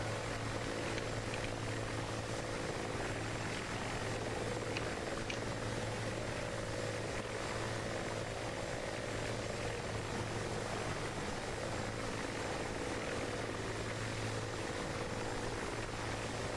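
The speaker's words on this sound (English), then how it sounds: "There's another Mi-24." A Mi-24 helicopter in a multiplayer video game battle gives a constant, dense rotor and engine drone, steady and unbroken throughout at a moderate level.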